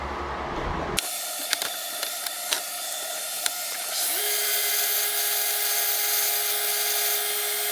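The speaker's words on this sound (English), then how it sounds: "I need to flip over my grinder and just kind of touch up the little swell spot right there." An angle grinder touching up a steel saddle axe head, with sharp metallic ticks and hiss, then the grinder spinning up into a steady high whine that holds to the end.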